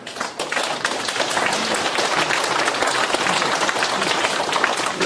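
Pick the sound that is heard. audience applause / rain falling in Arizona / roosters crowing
audience applause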